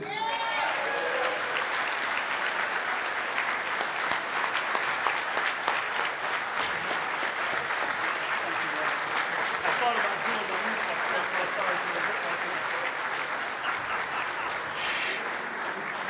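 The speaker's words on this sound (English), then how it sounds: "let's give him a round of applause" An audience at a Newark mayor's men's breakfast applauds as Governor Phil Murphy is brought up, steady sustained clapping filling the room with cheering voices and crowd chatter mixed in.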